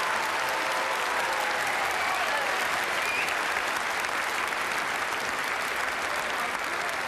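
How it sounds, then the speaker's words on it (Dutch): A studio audience at a Dutch television talent show applauding warmly, dense even clapping sustained at full strength for the whole seven seconds with no pauses. "Het warme applaus komt nog één keer over je heen"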